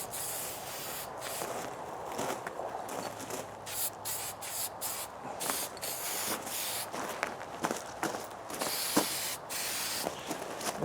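Spray paint hisses in repeated short bursts as coats go onto a Suzuki Bandit 1250 FA motorcycle part, each spurt close and crisp with brief gaps between passes.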